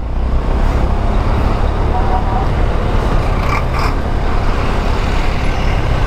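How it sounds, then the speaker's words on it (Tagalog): Steady road traffic in a long jam at a detour near San Miguel, Bulacan, Philippines, with a continuous loud rumble of idling cars, buses and trucks, close and unbroken, with brief higher hisses partway through. "ang haba ng traffic"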